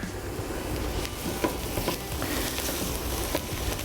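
Risotto with fresh thyme stirred in a pan, a steady scraping and sloshing of the spoon through the rice over a soft sizzle, close and continuous with no talking.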